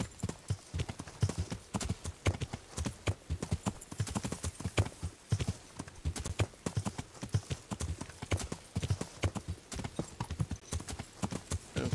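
Horse hooves clip-clop steadily and close by while riding in the medieval game Kingdom Come: Deliverance, a brisk, regular rhythm of hard strikes with no talk over it.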